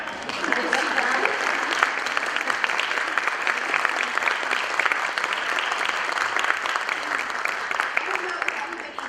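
Steady audience applause following a guest speaker's talk, dense continuous clapping from a room of listeners lasting the whole stretch at even loudness.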